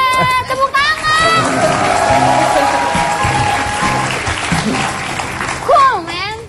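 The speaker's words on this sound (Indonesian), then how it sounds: "tepuk tangan" A studio audience applauds in a sustained clapping roar, mixed with a voice and music, with talk at the end.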